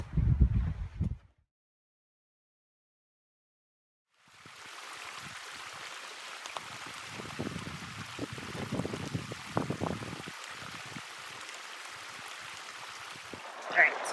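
A mountain stream on the Wonderland Trail around Mount Rainier flows with a steady, rushing wash of water. It comes in after a brief burst of sound and a few seconds of silence, then continues evenly.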